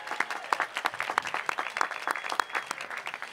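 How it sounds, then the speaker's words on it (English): A graduation ceremony crowd applauds steadily, many hands clapping in a dense, continuous patter at moderate distance. "Yes, that's worth applause."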